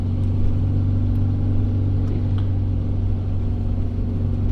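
A manual Toyota 4Runner on Bridgestone Blizzak DM-V2 tires climbs a snowy mountain pass, a constant low engine drone and road rumble heard from inside the cabin, steady and fairly loud with no talk.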